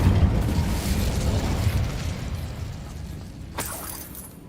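Fire spell Incendio cast in the video game Hogwarts Legacy, a loud, dense fiery roar and rumble that fills the clip with heavy low-end boom, fading slightly toward the end with a brief crackling burst.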